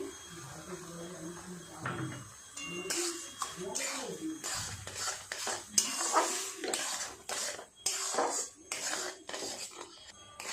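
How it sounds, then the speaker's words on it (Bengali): Semolina cooked with sugar and water is stirred in a pot, giving uneven metallic scrapes and clinks of a spoon against the pot, close by, while a person talks at times over the stirring. "সুজিটা এইভাবে নেড়ে নেড়ে একটু গাঢ় হয়ে গেলে নামিয়ে নেব।"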